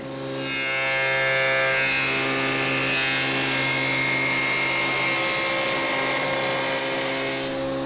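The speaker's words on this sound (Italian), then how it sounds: "Per rifinire i lati del pettine si usano questi due stampi su una fresa d'albero libero." A spindle moulder cuts steadily into wood for nearly eight seconds, shaping the sides of a wooden rake comb with a loud, even whine and rasp that starts up and dies away at the ends.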